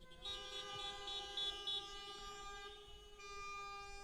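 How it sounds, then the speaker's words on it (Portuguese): Long steady car horn blasts sound from several vehicles during a church service, with a short rhythmic beeping pattern in between, moderately distant. "Eu posso ouvir umas buzinas aí de carro?"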